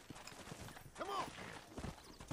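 Horse hooves clip-clop faintly in the video game Red Dead Redemption, soft irregular steps under low game ambience with a short whinny-like call midway.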